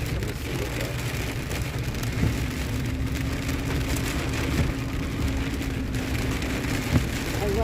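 Steady rain falls on a vehicle in Palo Duro Canyon, a dense, even patter with a constant low hum underneath and a few louder drips, heard close and continuous.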